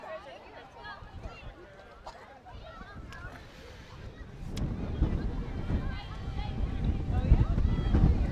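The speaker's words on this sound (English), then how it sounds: "Here comes another big gust of wind." Wind gusts across an outdoor softball field during a girls' game, starting as soft buffeting under crowd chatter and swelling into a loud, blustery microphone roar in the second half.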